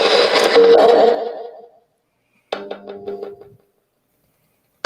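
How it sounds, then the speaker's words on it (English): Ghost box device sweeping through FM radio stations with built-in reverb: a burst of hissing static fades out, then after a pause comes a short choppy run of tonal, stuttering radio fragments and a final brief blip. "FM sweeping with reverb built in"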